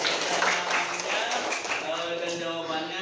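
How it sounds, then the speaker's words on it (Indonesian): Children in a classroom applaud a classmate named Nasya, a soft, brief flurry of small hands clapping that fades as an adult voice begins speaking. "Tepuk tangan dulu."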